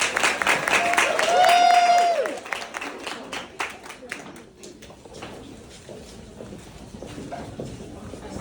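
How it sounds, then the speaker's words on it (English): Summit audience applauding as speakers are welcomed for a fireside chat, clapping loudest at the start and tapering off, with whistles and cheers early and talk beginning as it fades. "give them a warm round of applause"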